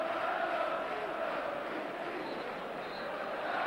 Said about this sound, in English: So the Rangers fans applaud their team as they leave the field